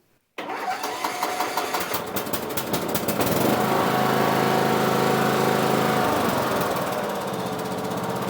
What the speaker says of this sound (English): We'll put this back together and see if the tractor will start with the battery.